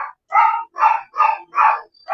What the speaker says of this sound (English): All that barking.